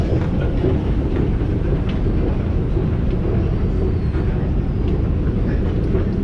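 A London Underground metro train rumbles loudly and steadily throughout, with continuous low-frequency roar and rattling wheel noise, no voices heard.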